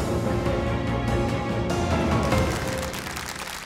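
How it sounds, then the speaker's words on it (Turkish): Studio audience applauding during a televised Quran recitation competition, loud sustained clapping that fades slightly toward the end. "Alkışlarınız."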